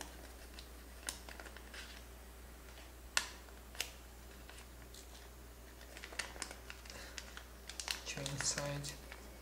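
Paper is folded and creased for an origami Celtic cross, giving scattered soft crinkles, taps and snaps close by, with a brief denser rustle near the end.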